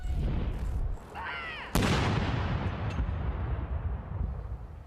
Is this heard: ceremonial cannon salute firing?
yes